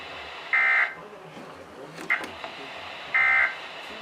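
Two long electronic beeps from a Weather Radio Canada weekly test alert are separated by a short chirp. Each tone is loud and steady, set against a quiet background.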